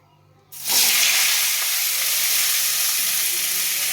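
Asafoetida and five-spice hitting hot oil for a potato curry, a sudden loud burst of sizzling after a quiet moment, then settling into a steady close hiss.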